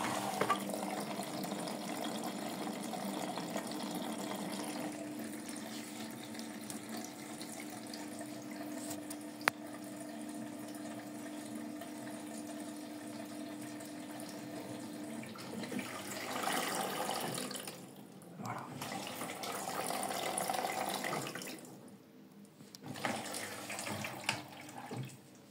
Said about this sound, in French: Elle va mettre l'eau.